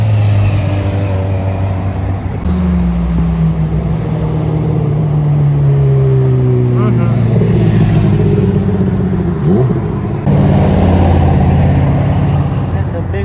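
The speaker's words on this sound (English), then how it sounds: "That's a big old Ford Raptor next to a Ford Mustang GT" A Ford Raptor and a Ford Mustang GT drive past at a car and bike gathering with a loud, close engine roar and rising revs. A broad rumble of street traffic sits underneath, and voices are heard at times.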